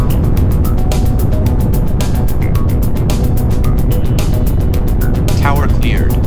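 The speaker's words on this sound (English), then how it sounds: "5, 4, 3, 2, engine start," Progress resupply rocket to the ISS lifting off, its engines a loud, continuous broadband roar, with a voice speaking over the launch noise.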